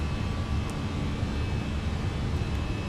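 Airbus A321 with sharklets in a flight simulator, engines at climb thrust giving a steady, loud broadband roar with a low rumble, unchanging throughout with no talk.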